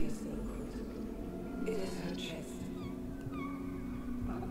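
A cat in the surreal world of the video game Memories Retold, with a few faint, high meows scattered over a low game ambience, quiet and somewhat distant.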